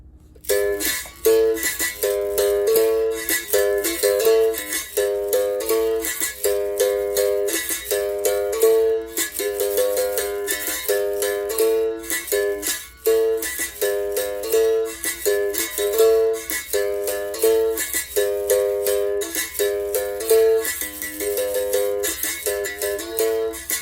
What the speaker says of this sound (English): Another approach to playing Bento Grande Regional is playing in 4 phases.